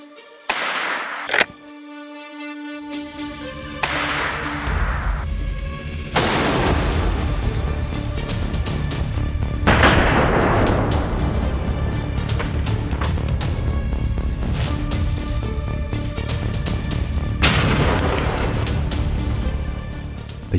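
Browning and Winchester rifles fired at a long-range shooting ground in Wales: several loud, booming shots spaced irregularly, each trailing into a long rolling echo, with no talk.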